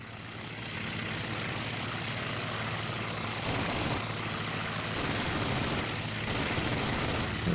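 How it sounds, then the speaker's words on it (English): Rapid anti-aircraft gunfire rattles through a continuous droning aircraft engine in the IL-2 Sturmovik flight combat game, with dense bursts of shots at a moderate, somewhat distant level. "Gotta be careful with this anti-aircraft fire, though."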